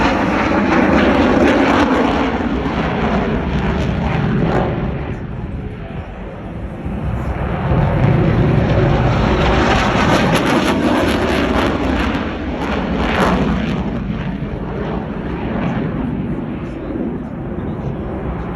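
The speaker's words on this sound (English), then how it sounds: "so did the C-17, which everyone's going to see land here in a second" Boeing C-17 military transport jet landing at an airshow: a loud, sustained engine roar that swells and fades for the whole stretch, with a crowd and people talking under it.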